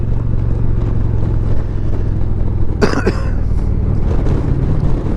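A 2021 Indian Challenger Limited motorcycle engine rumbles steadily under rushing wind on the road, with a brief sharp burst of noise midway through.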